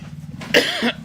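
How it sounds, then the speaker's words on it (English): A single short cough from a person walking around Williamsburg, Brooklyn, close and fairly loud over faint background hum. "Just got a cough."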